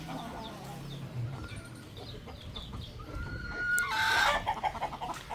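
Chickens and chicks cluck and peep around a feeding of boiled rice outdoors, a busy mix of close clucks and calls, with a louder squawk near the end.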